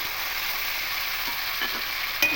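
Spice paste with ginger and green chilli sautéing in a pan for a vegetarian potato curry, a steady close sizzle with a few soft stirring knocks and a sharper clatter near the end.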